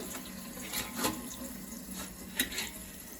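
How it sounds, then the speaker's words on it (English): Tap water running over beans being rinsed for a three bean salad, a steady close splashing flow with a few louder spatters, no voices. "going to just rinse"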